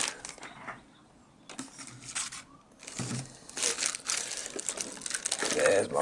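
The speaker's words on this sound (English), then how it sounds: "I'll get my razor blade and we'll just trim that off." A razor blade trims overlapped material during a 1986 Nintendo Game Boy DMG restoration, close-up scraping, crinkling and handling noises in irregular bursts, building louder toward the end.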